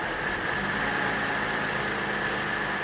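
Ex-police Holden Commodore engine idling rough and recovering as starting spray is applied near the catch can, a steady close mechanical drone with a constant whine and no talk.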